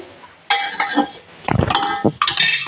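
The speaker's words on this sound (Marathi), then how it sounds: "आता बघा मी ती साखर त्यातला फिरवून घेईन." A spoon scrapes and clinks against a metal pot while sugar is stirred into a sweet cabbage dish, in several short bursts separated by brief pauses.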